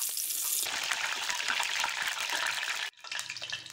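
Vegetables sizzle loudly and continuously as they fry in hot oil, then the sound cuts off sharply and returns as a quieter, uneven crackle.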